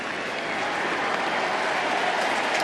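Steady applause from a large stadium crowd at Nationals Park as a Washington Nationals pitcher leaves a postseason baseball game against the Dodgers, a dense continuous wash of clapping with a faint murmur of voices beneath.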